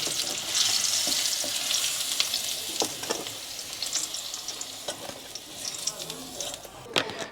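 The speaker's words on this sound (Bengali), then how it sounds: "দেখুন আলুটাও ভাজা হয়ে গেছে" Potatoes fry in hot oil in a kadai, a steady close sizzle and hiss with occasional scraping taps of a spatula stirring.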